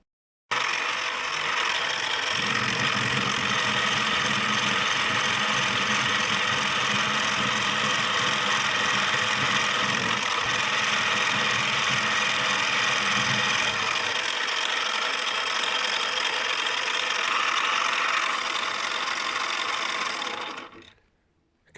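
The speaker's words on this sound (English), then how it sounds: "So I'll just carry on drilling now" Steady mechanical whirr of a drill boring holes for the clamping bolts in a brake disc cutting tool holder, continuous and fairly loud for about twenty seconds before stopping abruptly.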